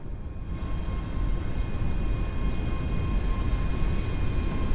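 A Class 385 electric train departs in Train Sim World 4, a steady loud rumble with broadband rolling noise and a thin high whine holding constant, heard close and alone.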